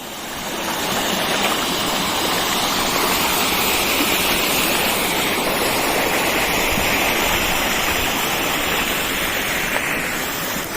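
Steady, dense rush of water, like heavy rain pouring down nearby, a continuous broadband hiss without any voices.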